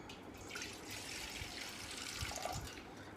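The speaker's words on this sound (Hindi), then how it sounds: "इस तरह का बर्तन लेना है आपने और इसमें थोड़ा सा आपको पानी डालना है।" Water pours steadily into a small vessel at a kitchen tap, a soft continuous trickle and splash, faint and close, with no talking.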